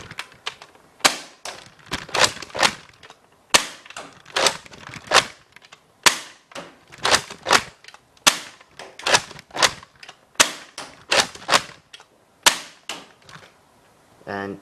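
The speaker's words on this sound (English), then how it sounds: "just before I started the firing test, so here it is, my personal modified Recon CS-6" A modified Nerf Recon CS-6 blaster, fitted with a 5 kg OMW spring, reinforced plunger and air restrictor removed, fires darts in a long run of loud, sharp snapping shots, each with a short mechanical rattle from priming between them.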